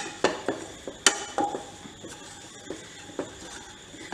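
Coconut powder dry-roasting in a pan for milk modak, heard as a spoon or spatula knocking and scraping the metal in sparse, sharp taps with quiet gaps between, close by.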